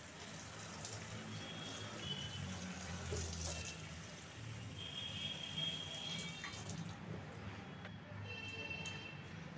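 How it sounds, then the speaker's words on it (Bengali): Water running steadily while plants and stones are washed, a continuous splashing flow with occasional faint clinks and a soft voice in the background. "এই যে পাথরগুলো সাজিয়েছিলাম, পাথরগুলো এখন ধুয়ে নেব।"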